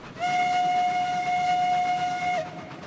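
A steam locomotive whistle in the Railroads Online video game sounds one long, steady, loud blast lasting over two seconds, then cuts off sharply, leaving the low rumble of the train.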